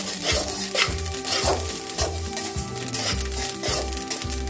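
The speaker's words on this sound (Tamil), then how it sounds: "போட்ட உடனே நல்லா சட்டி சூடாக இருக்குது, பொரியுது பாருங்கள்." White or black sesame seeds crackle and pop in a hot pan, a dense close sizzle with steady stirring scrapes and rhythmic knocks of the utensil against the pan.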